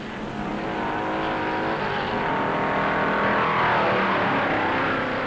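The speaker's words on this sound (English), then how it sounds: "Fireball Roberts in second place is pushing Weatherly to a showdown" Late-1950s stock cars racing at Darlington in the 1958 Southern 500, a dense steady roar of several engines on the track, continuous and fairly loud, with a faint tire squeal and no talk.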